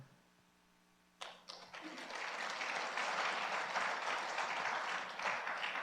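A congregation applauds at a church ordination and installation ceremony, the clapping bursting in after a quiet moment and swelling into steady, sustained applause that fills the hall.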